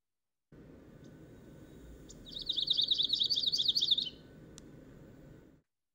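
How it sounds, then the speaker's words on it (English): A Townsend's warbler sings a short, bright, rising series of high whistled notes, lasting under two seconds, over a low background rumble, with no talk. "This beautiful bird is called the Townsend's warbler."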